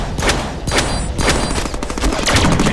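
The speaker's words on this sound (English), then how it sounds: "Shotgun to him!" Repeated loud shotgun blasts from the Deadpool video game, several sharp broadband bursts in quick irregular succession filling the short stretch, with no talk over them.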